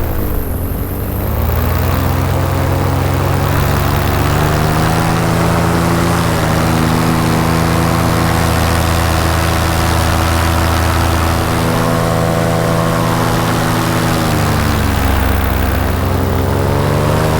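A paramotor engine and propeller drone steadily and loudly throughout a flight, a constant harmonic buzz with slight pitch shifts and wind rush, no voices.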